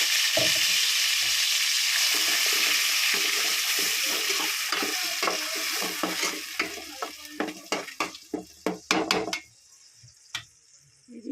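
Onion paste frying in oil for fish curry: a loud, dense sizzle at first, then sharper stirring clicks and scrapes against the pan as the hiss settles and fades near the end.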